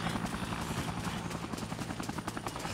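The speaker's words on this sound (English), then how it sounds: "But I do want to kill that helicopter." Helicopter in the Dead Rising video game, its rotor chopping in a steady, rapid rhythm at close range, loud and continuous with no talk over it.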